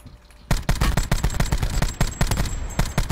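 Rapid, loud automatic gunfire from the Blackout video game, a dense rattling string of close shots that starts abruptly and keeps going without a break.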